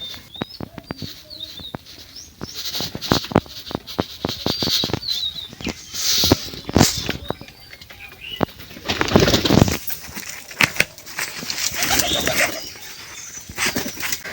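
Pigeons flutter and coo around a feeding spot as mustard seed is shaken out for them, with sharp wing flaps and rattling bursts scattered through the clip and soft calls between them, close by and without talk.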